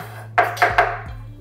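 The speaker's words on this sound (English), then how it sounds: "I'm gonna take a piece of red onion, and I will just cut sort of strips" A knife cuts a piece of red onion into strips on a board, three quick close chopping knocks in a row over a faint steady hum.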